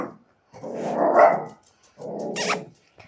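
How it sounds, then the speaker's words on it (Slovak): A dog gives two close bursts of barking mixed with a rough growl, with a short silent gap between them. "Nerešte, môj pes."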